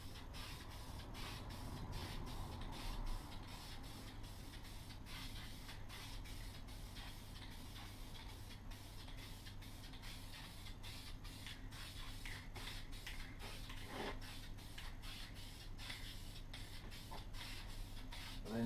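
A spray can hisses in a light, steady dusting of paint over a rifle being camouflaged, a continuous soft spray with no talk.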